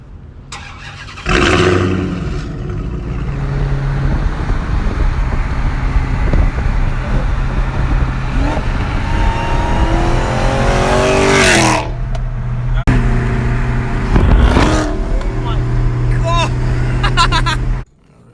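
Dodge Hellcat with a Corsa Xtreme exhaust revving loudly close by, long deep bellowing pulls with sharp throttle blips and crackles, and a voice briefly heard over the engine.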